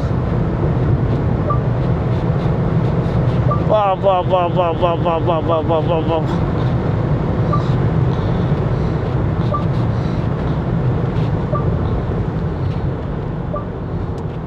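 A 2025 Mercedes-Benz E220d diesel accelerating at triple-digit speed, with steady, loud road and engine rumble heard from inside the cabin throughout and a brief chirping burst midway.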